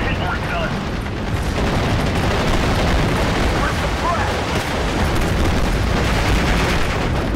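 Mortar fire in the Normandy-set strategy game Steel Division: Normandy 44, a dense, continuous rumble of battlefield booms and blasts, loud and sustained without clear pauses.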